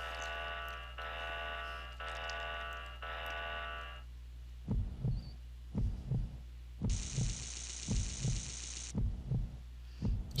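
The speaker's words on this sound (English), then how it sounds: "So weird how there's like a heartbeat" Heartbeat sound effect in a fortress stage of the video game Mega Man X6, slow thumping double beats repeating evenly in the second half amid buzzing synthetic alarm-like tones and low hum.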